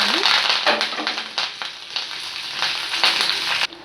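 Curry leaves and dried red chillies crackle and sizzle in hot oil for pulihora, a steady dense frying hiss with sharp pops scattered throughout, close and loud, ending abruptly.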